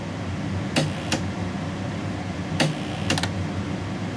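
A faulty vintage GE AM/FM 8-track stereo player's mechanism clicks several times, sharp and close, in an irregular pattern over a low background hum while the tape fails to run.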